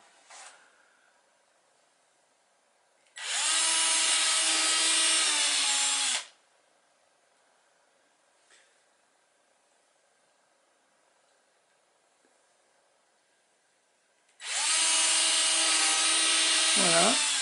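Power drill boring two holes into wood for the fittings of a toy Chausey boat, two loud sustained bursts of about three seconds each separated by quiet, close up.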